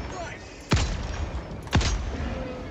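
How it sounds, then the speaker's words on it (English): Two sniper rifle shots ring out in Helldivers 2, each a sharp crack with a booming tail, about a second apart against quiet game ambience. "Let me shoot them with the sniper."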